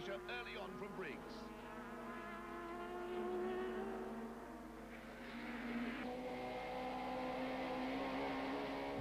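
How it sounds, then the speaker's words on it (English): Onboard race cam from a Toyota Castrol Camry super touring car lapping Kyalami in 1995, a steady high-pitched engine drone with shifting tones, close and constant throughout. "More superb race cam shots from the Taylor Castrol Camry."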